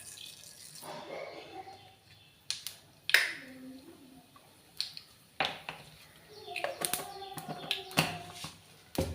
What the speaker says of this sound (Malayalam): കടുക് ഒന്ന് പൊട്ടി വരുമ്പോൾ